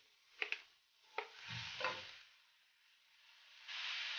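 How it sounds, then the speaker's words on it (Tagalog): Meat lands in a pan of frying onions for lumpia Shanghai filling, giving a few sharp clicks and a soft stirring rustle followed by a faint, rising hiss of sizzling fat close by. "Okay na ang ating onion. Add the meat."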